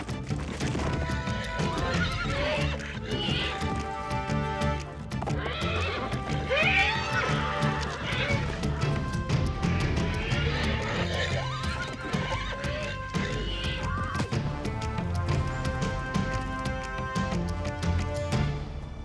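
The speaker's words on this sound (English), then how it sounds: "bachelors begin play fighting, honing skills they will need to win and keep mares." Wild mustang stallions squeal and whinny loudly amid scuffling hooves and snorts as they play fight, a rough, energetic tussle heard up close, with a voice speaking over parts of it.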